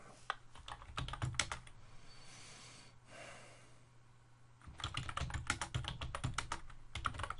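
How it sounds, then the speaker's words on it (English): Rapid bursts of typing on a computer keyboard while coding in Java, close and clear, with a pause and a soft breath in the middle before the clatter resumes. "Helps if my hands are on the keyboard right."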